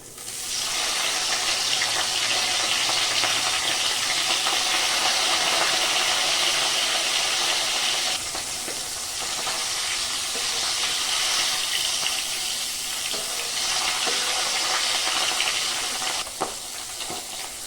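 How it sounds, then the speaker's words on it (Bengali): Katla fish frying in hot oil and ghee, giving a steady, close, loud sizzling hiss that holds for the whole stretch with only slight dips in intensity. "এবার এখানে আমি মাছগুলো দিয়ে হালকা করে ভেজে নেব।"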